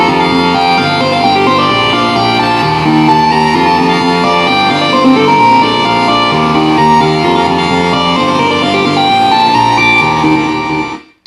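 A synth lead melody from an electronic music track in progress plays loud and continuous with dense layered tones, then cuts off abruptly at the end.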